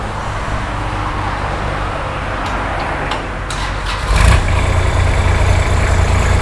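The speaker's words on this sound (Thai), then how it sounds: "เดี๋ยวเราให้ช่างมาทดสอบระบบกันนะคะเดี๋ยวเรามาฟังเสียงเครื่อง" Used Kubota L3408DT tractor with a front blade and disc harrow, diesel engine running at a steady idle close by, a low continuous rumble that grows slightly louder partway through, with no talk.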